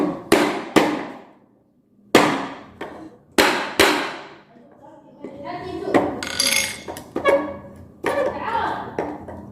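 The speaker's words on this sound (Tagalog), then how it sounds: "Pinupukpok ko siya dito sa taas." Sharp hammer blows strike wood in a carpentry job, the first several ringing out singly with pauses between, then a denser run of knocks and clanks under a faint voice.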